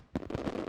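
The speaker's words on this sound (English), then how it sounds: "Fireworks" Fireworks bursting in a Mexican neighborhood, with a sharp crack followed by a second quick pop and a sustained rumbling crackle, loud and close.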